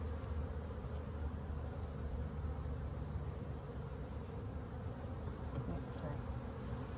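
Honeybees drone in a steady, even buzz from an opened hive during a late-winter inspection after coming out of winter, moderately faint and unbroken, with no talk.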